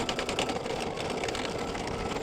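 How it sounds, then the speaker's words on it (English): An embroidery machine stitches steadily with regular thread in needle and bobbin, a close continuous mechanical whir and rapid needle chatter with no pauses. "now I'm going to go ahead and stitch the first color stop"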